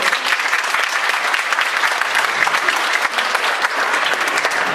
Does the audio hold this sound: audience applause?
yes